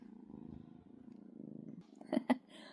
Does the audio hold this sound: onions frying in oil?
no